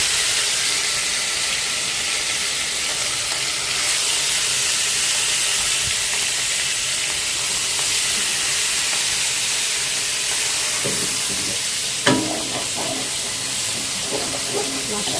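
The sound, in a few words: fish frying in oil in a pan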